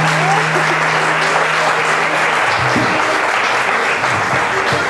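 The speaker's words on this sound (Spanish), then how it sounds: "Mañe Rodríguez merece el aplauso de ustedes," An audience applauds for Mañe Rodríguez at a Colombian folk music celebration, a loud sustained roar of many hands clapping that carries on without a break.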